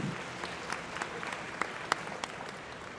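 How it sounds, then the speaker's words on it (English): An audience at a Brahman bull show claps, a steady spread of applause with a few sharper individual claps standing out, moderately distant and even throughout. "let's give them a big round of applause on a great set of bulls"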